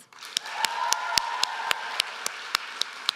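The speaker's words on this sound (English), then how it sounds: "Can we get another round of applause for Summer and Anushe for bringing down the house?" An audience at a 2017 Own It Summit morning session claps, with distinct sharp claps landing in an even, regular rhythm over a soft wash of crowd noise.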